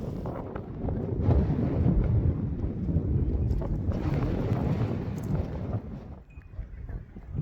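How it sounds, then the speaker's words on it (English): Strong wind buffets the microphone on a coastal walk above Aberystwyth, a steady, loud roaring rush that eases slightly near the end. "At least there's some shelter from the wind here."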